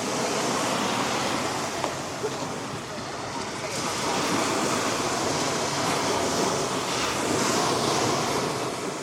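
Ocean surf rolls onto Fornillo beach in Positano on the Amalfi Coast, a continuous broad wash of waves with some wind across the microphone, fairly loud and unbroken throughout.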